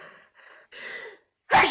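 A sudden loud sneeze bursts out after a few softer breaths and gasps, close and alone in a quiet room, in a 1939 romantic drama film.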